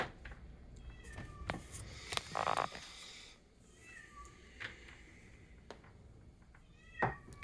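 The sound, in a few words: cat meowing in the background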